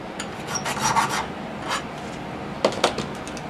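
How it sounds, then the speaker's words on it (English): A hand file rasps against the metal barrel of a homemade hand engraving machine hand-piece, close up, in a few short scraping strokes, a quick cluster early on, a lone stroke, then two more after a pause. "So we'll keep filing"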